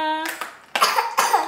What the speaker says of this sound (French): recommence à tousser